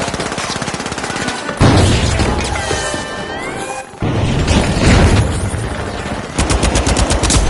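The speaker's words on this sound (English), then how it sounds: "Throwing a frag!" Gunfire and a thrown frag grenade in the shooter game The Finals, loud and close: rapid automatic bursts, a sharp crashing blast, then more fast rattling fire, with no talk.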